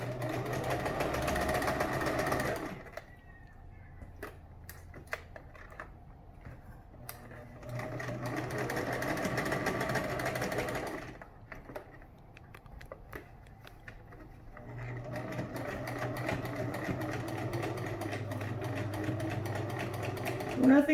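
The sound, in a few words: sewing machine stitching mask pieces together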